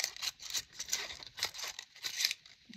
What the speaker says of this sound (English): we're going to cut this one on another seam and then just fussy cut out this inside